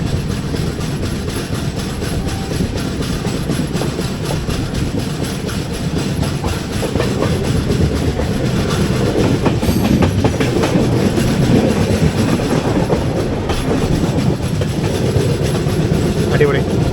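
The 16217 Mysuru-Shirdi Express rolls along steadily, filling the cabin with a loud, continuous low rumble and a rhythmic clickety-clack of wheels over rail joints that runs the whole length without pause.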